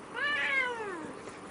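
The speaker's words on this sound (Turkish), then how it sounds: "Çok güzel bir kedisin sen." A cat gives one long, clear meow that rises and then falls, close and distinct against a quiet room.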